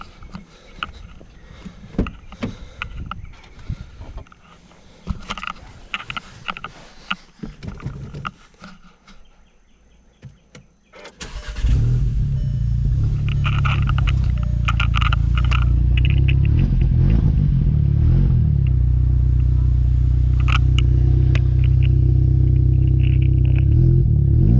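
A VW GTI MK7.5 with its muffler removed idles and revs loudly, a deep, raw, continuous roar up close, preceded by about ten seconds of clattering handling noises.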